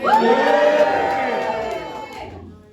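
A live audience lets out a loud, sustained cheer with whoops and shouts, swelling at once and slowly fading over a few seconds.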